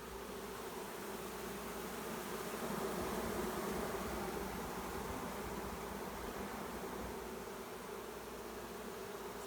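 Honeybees buzzing at a hive that is preparing to swarm, a continuous, dense drone from many bees heard close by and holding steady throughout, with no talk.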